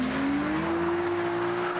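A Japanese car drifts sideways in the UK, its tires holding a loud, sustained squeal that rises slightly in pitch and stays steady over the engine roar, close and continuous.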